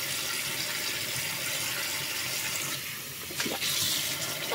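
Running water from a tap pours steadily for several seconds while shower gel is tried, a broad close hiss with a brief louder splash toward the end, no talk.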